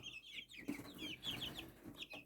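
Young fighting-breed chicks clucking close by in quick, chattering bursts, several birds overlapping with short squawks and no voices.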